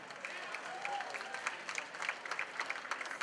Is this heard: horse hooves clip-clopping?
no